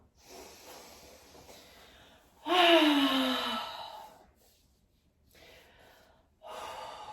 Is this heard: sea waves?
no